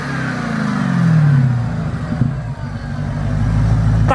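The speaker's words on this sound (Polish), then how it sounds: "Oprócz tego, że słucha się wydechu, dźwięku wydechu, no to jeszcze świst kompresora robi całą robotę." A supercharged Dodge Challenger Hellcat with 707 hp accelerates hard, its loud exhaust roar rising together with a high supercharger whine, heard close from inside the car and then settling into a steady drone.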